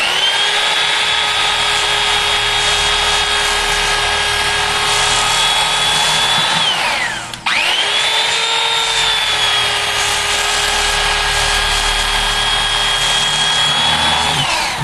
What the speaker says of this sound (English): this is one of those occasions where I do bring out my electric knife